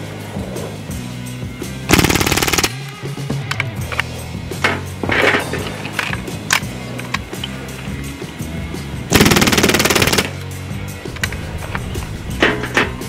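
A Hatsan Blitz air rifle fires on full-auto during a torture test, with two loud, sharp bursts of rapid rattling shots separated by quieter mechanical clicks and handling noise.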